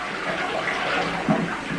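Water is poured out of a film developing tank during home color film processing, a steady, fairly close splashing gush running continuously with no talking.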